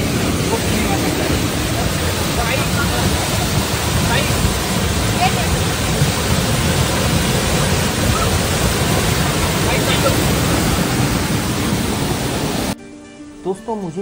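A waterfall at Gupt Bhimashankar, the origin of the Bhima river, roars as a steady, loud, broadband rush that fills the scene before cutting off abruptly near the end.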